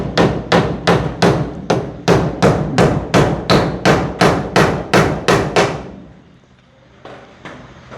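Hammer blows pound a wooden log in a rapid, steady run of about sixteen loud, close strikes over six seconds, then stop, leaving quiet room noise and a faint knock or two.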